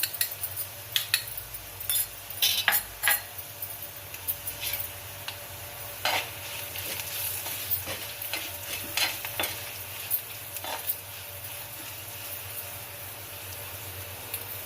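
Carrot, bean and potato pieces fry in a pan with roasted coriander powder, giving a soft steady sizzle broken by repeated scraping clicks of a spoon stirring. The sound is close and fairly quiet, and no one speaks.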